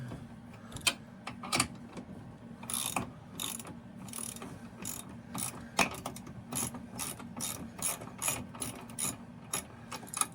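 Ratchet with a 13 mm socket clicking steadily on the spindles of a 2016 Polaris SKS 800 snowmobile, in repeated bursts of sharp pawl clicks over a low background hum, close and fairly loud.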